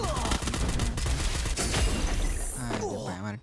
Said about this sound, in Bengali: আমাকে গ্রেনেড মারছে, একটা গুলো মারলাম।